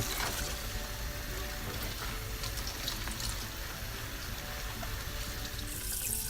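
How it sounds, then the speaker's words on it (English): Whole napa cabbages are washed for kimchi under running tap water, giving a continuous close splashing stream with small bursts of spatter throughout. "Now, you're going to thoroughly wash the cabbages with water."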